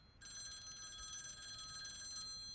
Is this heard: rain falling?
no